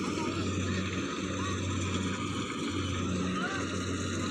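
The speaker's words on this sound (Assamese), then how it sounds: "মেচিনে ধান কাটিছে মেচিনে ইয়াত ধান কাটিছে" A paddy harvesting machine working in a rice field, with a tractor standing by loaded with grain, gives a steady, loud engine drone with a low hum throughout, close by and unbroken.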